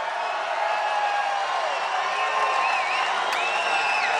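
A large crowd at a Donald Trump rally in Akron, Ohio cheers and whoops continuously, a loud, dense roar with scattered shouts and whistles rising above it throughout.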